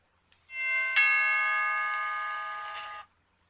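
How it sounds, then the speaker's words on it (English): A single electronic doorbell chime rings out clearly, a sustained tonal ding that holds and slowly fades before cutting off, with near silence around it. "said Ma, as the doorbell rang."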